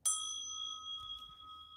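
A single bright bell ding struck once, a clear metallic ring with a long sustained tone that slowly fades, heard alone against near silence.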